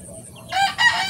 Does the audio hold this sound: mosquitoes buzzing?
no